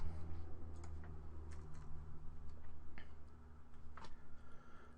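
A computer keyboard tapped in a few short, quiet runs of keystrokes over low background hum, with no talk.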